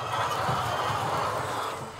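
A dense, steady murmur of many chickens fills a large poultry farm housing 800,000 birds, continuous and fairly loud throughout with no clear single call standing out.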